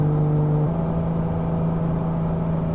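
Toyota MR2 with a swapped-in V6 engine pulling uphill on a road near Las Vegas, a loud steady droning engine note that shifts pitch once early on, heard from inside the car.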